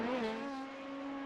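Race car at Sebring working through turns 7 and 8, a strong steady engine drone with clear harmonics holding a near-constant pitch, slightly easing toward the end.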